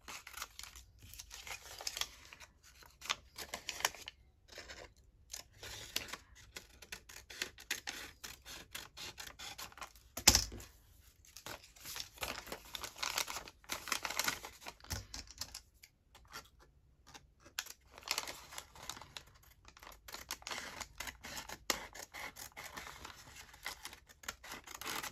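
Scissors cut long strips off paper while making library card pockets: faint, quiet snips and crisp paper rustles, scattered unevenly and close by.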